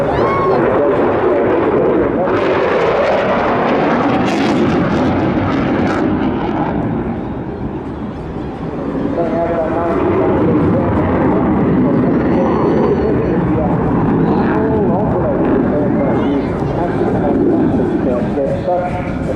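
Display aircraft performing aerobatic maneuvers at the Bournemouth Air Festival 2024, a broad sustained engine roar that rises and falls as it passes, loud throughout with a brief dip midway, with crowd or commentary voices mixed in.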